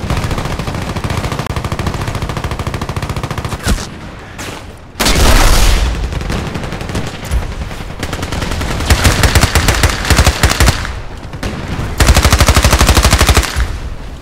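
Rapid automatic gunfire from an MP5 submachine gun in a video game, in loud sustained bursts with short pauses and heavier booms between volleys, with no talk.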